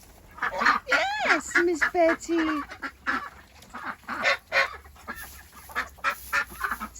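Ducks, including slender-necked runner ducks, honk and quack in a flock kept in a tunnel, loud overlapping calls in quick bursts close by, with someone speaking briefly.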